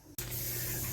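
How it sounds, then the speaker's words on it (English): A pressure canner on the stove gives a steady, loud hiss that starts abruptly after a brief quiet moment and then holds constant, close by, with no voices. "I apologize for the noise. My canner is still going."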